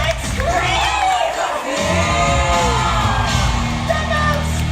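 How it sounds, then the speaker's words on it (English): A live show audience at Hollywood Studios cheers, yells and screams loudly and continuously, a dense roaring crowd with whoops rising above it throughout. "Make some noise and scream!"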